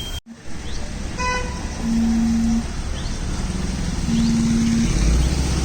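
Traffic rumbles along a Mumbai road partly blocked for the Tata Marathon, with two long steady car-horn blasts and a swell of engine noise near the end as a car passes.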